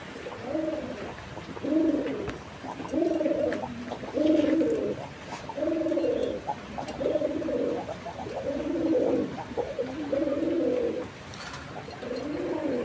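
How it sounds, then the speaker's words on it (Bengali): Pigeons coo steadily in repeated, rhythmic throaty phrases, close and fairly loud, with no talking over them. "আসলে কবুতরের ডাক কম বেশি সবাই পছন্দ করে"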